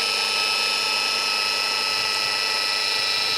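Rotary polisher spinning a wool pad against a car headlight on a Vauxhall Corsa, a steady high-pitched whine with a constant tonal hum running evenly throughout, fairly loud and close with no speech.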